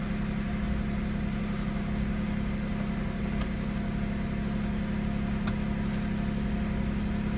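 A car engine idles steadily with the hood open, a close, constant low hum and drone that stays even throughout with no voices.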